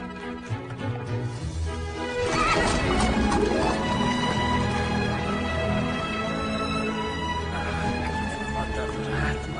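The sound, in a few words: horse neighing with hooves clattering, film scene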